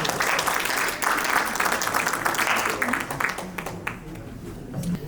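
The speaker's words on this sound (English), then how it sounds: "applause, please." A round of applause from an audience at a mental health awareness day event, steady crowd clapping that holds strongly then thins and tapers toward the end, with some talking blended in.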